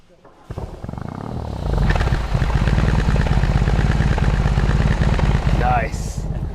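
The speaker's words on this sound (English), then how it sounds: "Start button starts the engine." A BMW boxer engine cranks on the start button and catches, then settles into a loud, steady, throbbing run close by, with a brief voice near the end.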